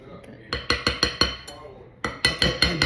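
Dry cookie ingredients with baking soda being stirred in a bowl, a run of sharp clinking utensil taps against the bowl coming in two quick bursts, close and fairly loud.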